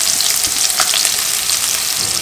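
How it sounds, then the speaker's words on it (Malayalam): Chopped onion hits hot vegetable oil in a pan, producing a loud, steady, close sizzle that crackles throughout without any voices. "ഓയിൽ ചൂടായിട്ടുണ്ട്. അതിലേക്ക് ആദ്യം അരിഞ്ഞു വെച്ചിട്ടുണ്ടായിരുന്ന സവാള ചേർക്കാം"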